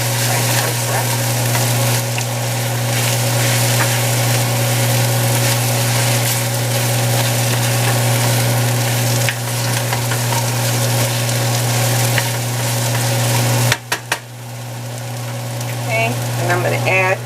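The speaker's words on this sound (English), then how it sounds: "Continue to fry those." Vegetables for a vegan gumbo frying in a pot, a loud steady sizzling hiss with a constant low hum underneath and a few brief knocks near the end.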